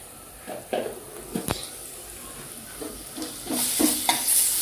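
Ginger and garlic paste fries in a pan for a boiled egg fry. A soft sizzle runs underneath a few sharp spoon scrapes and stirring clicks, and it grows to a brighter hiss near the end.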